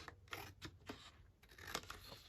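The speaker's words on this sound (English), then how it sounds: "Let's just again cut that non-borderless edge off." Scissors snip off the edge of a sheet of paper, several quiet crisp cuts in an uneven rhythm, close by.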